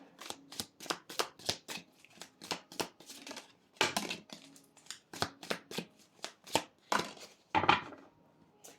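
Oracle cards shuffled by hand in quick, close riffles and slaps, a rapid series of crisp papery bursts with brief pauses between groups, no talking.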